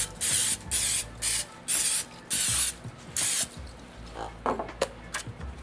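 Cooking spray sprayed onto a pan in about six loud, close hissing bursts of roughly half a second each, followed by quieter handling clatter.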